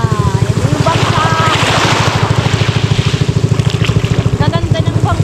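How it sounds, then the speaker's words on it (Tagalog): An outrigger bangka runs on a calm sea, its engine thumping in a fast, even pulse with water sloshing around it and voices now and then. "Yan na. Yan yung bangka."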